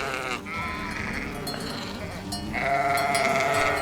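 Sheep on a Kyrgyz livestock farm bleat loudly and close by, with overlapping wavering calls, one rising again near the end, over a voice talking.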